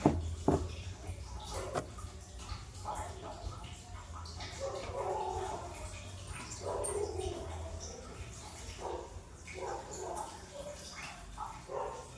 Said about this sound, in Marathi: कुत्रे भुकायला चालूच